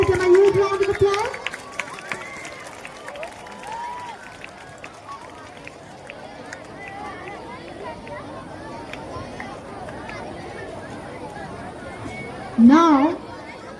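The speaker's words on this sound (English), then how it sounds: "Come on, everybody, give them a huge round of applause." A school crowd at an Independence Day inter-house volleyball prize ceremony gives a sustained round of applause, a continuous rattling patter of many hands with chatter mixed in and a brief louder burst near the end.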